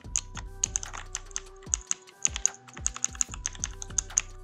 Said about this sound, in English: The keys sound similar to a mechanical keyboard